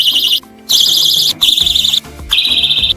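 A personal safety alarm set off by pulling out a pin that stays attached to its body shrieks loud and piercing in close, pulsing bursts, with short gaps between repeated blasts.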